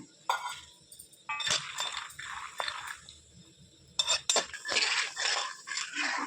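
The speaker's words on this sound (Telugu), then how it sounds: "కొంచెం మనకి ఒక నాలుగు స్పూన్లు ఆయిల్లో వేసుకొని పల్లీలు త్వరగా వేయించుకోవాలి" Peanuts tossed in about four spoons of oil in a pan, heard as bursts of rattling, scraping stirring and metallic clinks between quieter moments of soft frying, close and fairly loud.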